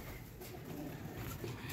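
Soft, low cooing of high-flyer pigeons in Lahore murmurs faintly against a steady background hiss, with no voices.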